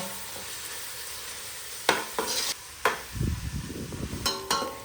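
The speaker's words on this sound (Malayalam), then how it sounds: "അപ്പം നമ്മുടെ ഉള്ളി നല്ലോണം വഴറ്റിയെടുക്കണം കേട്ടോ." Onions sauté in a pan for beef biryani with a low, steady sizzle. A utensil clanks and scrapes against the pan a few times while stirring.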